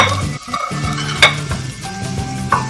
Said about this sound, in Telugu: వెల్లుల్లి వేసుకోవాలి ఫస్ట్.